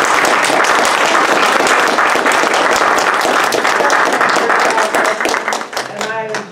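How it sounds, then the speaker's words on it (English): A crowd applauds at a men's civic engagement summit, a full, loud burst of clapping that runs steadily, then thins and fades as a voice begins speaking at the end. "Let's give them a round of applause."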